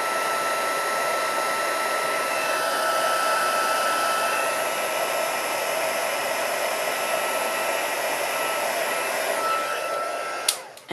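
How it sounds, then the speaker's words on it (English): A heat gun blowing hot air to melt embossing powder on a paper craft project, a loud, steady, close whooshing roar that holds throughout and cuts off abruptly at the end. "So I'm just heating up my heat gun."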